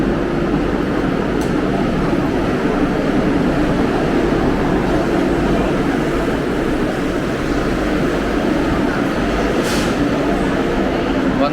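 Steady, loud rumble and hiss of a Vande Bharat Express train at a station platform, a continuous broadband roar with faint brief clanks, no clear voices.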